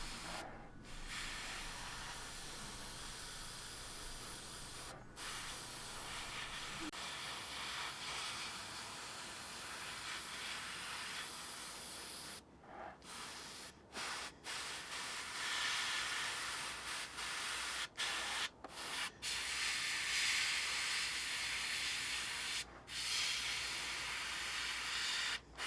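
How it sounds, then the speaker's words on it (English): An airbrush sprays green paint lightly over pre-shading on a Nurgle Plague Hulk miniature, a steady close hiss that runs on and off with short pauses between bursts. "So I spray really lightly just to make sure that I'm controlling to see how much of that shadow actually seeps through"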